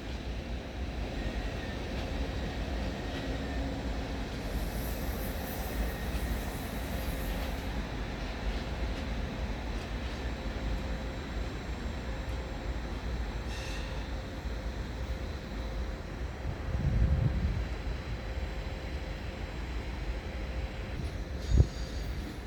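Train pulling into Munich main station behind locomotive 1116 163-7: a steady low rumble runs throughout, swelling briefly near the end with a sharp metallic clank.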